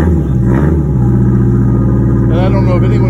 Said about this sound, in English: this is a typical for a Detroit diesel when you first start